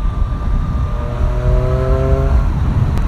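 A Triumph Street Triple 765 RS motorcycle's intake note at high speed while overtaking: a steady, rising engine drone over loud wind rush, held for a few seconds.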